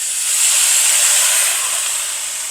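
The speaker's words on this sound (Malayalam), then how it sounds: "സോയ സോസ് ഒഴിക്കാം." Soy sauce is poured into a hot pan while schezwan noodles cook, setting off a loud, steady, close sizzling hiss that lasts throughout and fades slightly at the end.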